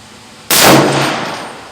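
A single loud .308 rifle shot hitting a target at an outdoor shooting range: one sharp, sudden impact that decays over about a second.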